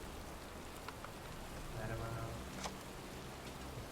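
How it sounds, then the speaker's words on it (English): Video game rain (Heavy Rain) patters steadily in a soft, even hiss, with a faint murmur of voices underneath. "It's cold. It's raining. I'm standing outside getting soaked."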